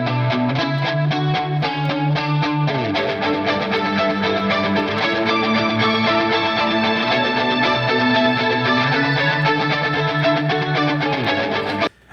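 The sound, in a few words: synthwave lead and rhythm guitars playing together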